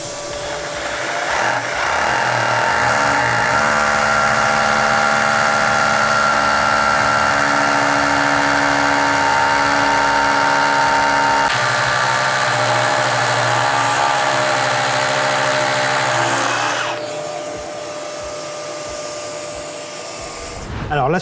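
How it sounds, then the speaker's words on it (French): A steady whining motor drone from a dust-extracting drill bit connected to a vacuum runs loud and continuous for most of the clip, then cuts down near the end. "la même opération avec un forêt aspirant relié à un aspirateur"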